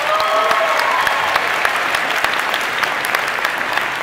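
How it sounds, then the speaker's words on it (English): Audience applause rises at a convention costume masquerade, a dense steady crowd clapping with scattered sharper claps and faint cheering throughout. "guys, round of applause, please"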